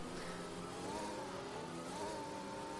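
An F1 car engine accelerating on a race restart in F1 2021 at the Spain circuit: a steady, high, buzzing whine that swells and climbs in pitch twice, heard continuously and fairly close.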